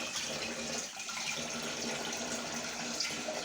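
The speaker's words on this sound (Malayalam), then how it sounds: "ഇത് നമുക്ക് ലാസ്റ്റത്തെ വെള്ളം ഒഴിക്കാം." Water is poured into a cooking pot in a continuous, even gushing stream that stays close and fairly loud throughout.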